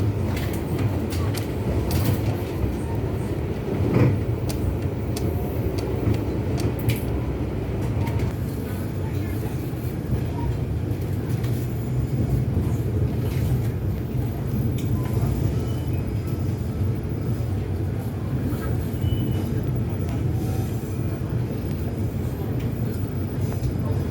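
Steady low rumble and rattle inside the KA Argo Cheribon train between Jakarta and Cirebon, a constant rolling drone with faint clanks throughout.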